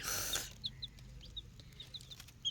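Small chicks about a week old peep in short, high chirps scattered across the moment, following a brief burst of louder noise at the start.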